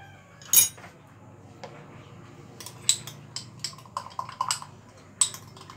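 Herbal powders such as henna and nagkesar being stirred and whisked into hair oil in a small bowl, with light clinking and scraping taps at irregular intervals, close and fairly quiet.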